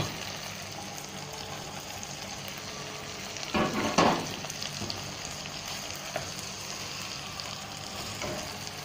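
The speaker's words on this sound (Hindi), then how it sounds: "थोड़ी थोड़ी मिक्स करते जाइए।" Okra masala (bhindi) fries quietly in a pan under a soft, steady sizzle, with one brief burst of a spoon scraping and stirring near the middle and a few faint clinks afterward.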